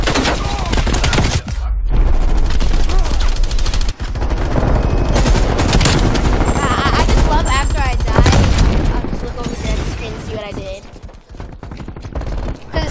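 Rapid gunfire from a Black Ops video game match, dense and loud almost throughout, with repeated shots and bursts layered with game effects, briefly dropping out near the two- and four-second marks.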